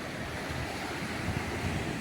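Sea waves wash onto Pirwadi beach in Uran, Raigad, at high tide in the evening: a steady, dense roar of surf, close and constant, with no breaks or voices.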